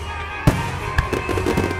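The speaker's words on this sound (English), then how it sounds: "2019 La Puente Fireworks Show." Fireworks bursting at the 2019 La Puente Park show, with a loud sharp boom, a second blast and a scatter of smaller crackling pops at close range.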